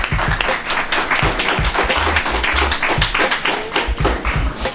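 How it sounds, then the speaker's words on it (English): Loud, dense applause from an audience welcoming a speaker, steady throughout, with low thumping underneath. "Can we give him a round of applause, please?"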